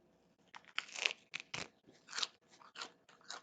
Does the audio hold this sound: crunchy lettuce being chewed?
yes